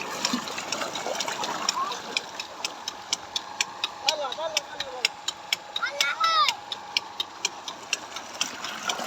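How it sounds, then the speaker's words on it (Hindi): A water-cooled motor runs steadily with a regular ticking, clattering beat and some watery sound, recorded up close outdoors with faint chirps in the background. "मोटर चलती पई है, पानी कोई नहीं वेंदा"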